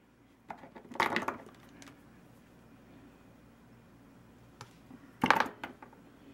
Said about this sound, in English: So I'm just gonna cut a short piece of wire.